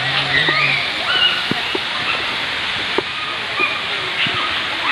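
Steady broadband rush of the Benang Setukel waterfall in Lombok, Indonesia, fills the background, with scattered splashes and a few voices of children bathing nearby.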